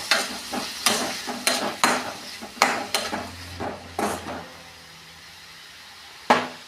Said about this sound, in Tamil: போட்டுட்டு நல்லா வணக்கி விடணும்.